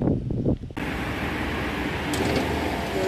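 A broadband whooshing roar kicks in suddenly after a brief quieter moment, then continues as a steady, loud mechanical hum with airy hiss.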